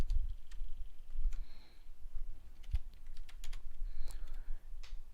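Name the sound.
typing on a computer keyboard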